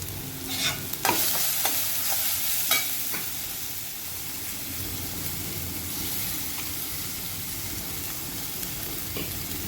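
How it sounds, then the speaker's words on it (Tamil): Ground pepper and cumin sizzling in a pan with a few scraping stirs early on, then a steady even hiss, close and fairly quiet. "மிளகு ஜீரகம் எல்லாம் அரைச்சி வச்சுருக்கோம் அதெல்லாம் போட்டு இதில் வதக்கிக்கிறோம்"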